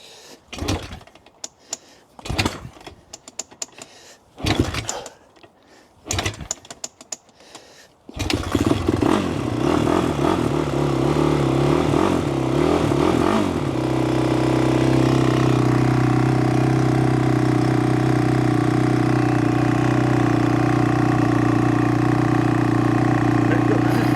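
An ATV engine that had sat unused for six years cranks in several short bursts, then catches and settles into a loud, steady running idle close by, with no talk over it.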